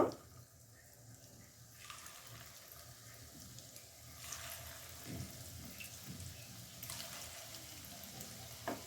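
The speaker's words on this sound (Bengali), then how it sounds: "এইভাবে আমি সবগুলো বড়া এক এক করে ভেজে নিব।" Cabbage and egg fritters fry in hot oil, a steady sizzle running throughout with a louder bubbling burst partway through and another near the end, heard alone without talk.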